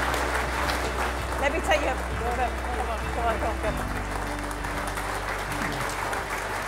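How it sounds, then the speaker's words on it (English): Audience applause at the Celebrating Success 2017 awards event, steady clapping running under a voice speaking over a low hum throughout. "Let's give him another big round of applause."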